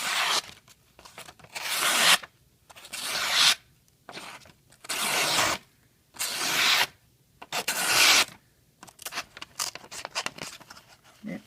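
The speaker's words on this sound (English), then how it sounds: "And we're about to see how it cuts. So, here we go. The infamous paper test." A Kershaw Leek knife slices through paper in a string of separate rasping, tearing strokes, each lasting about a second with short quiet gaps between, close and fairly loud.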